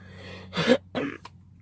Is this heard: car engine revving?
no